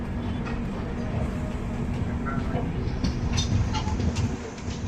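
Bidar–Machilipatnam superfast express train pulling into Vikarabad Junction, a steady loud rumble of wagons with faint clicking wheel noise throughout, heard from on board with no talking.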